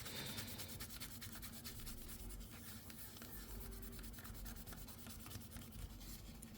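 Soft, continuous rubbing and scratchy wiping as a paper towel dries a part from a Dell Optiplex 550 computer, close-up and steady with light rhythmic strokes.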